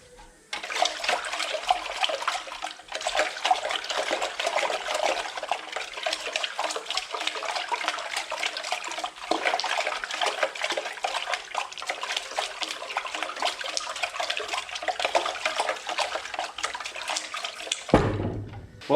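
Water splashes and sloshes continuously inside a modified wet-sump oil pan built for a Ford Sierra Coupe Turbo track car, a steady, close, fairly loud wash of spray lasting the whole stretch before cutting off with a low thump.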